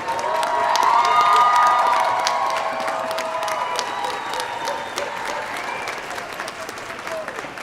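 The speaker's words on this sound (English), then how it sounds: "One more round of applause." A commencement ceremony audience bursts into applause with cheering, loud and full at first then gradually settling into steady clapping, with some shouts rising over it.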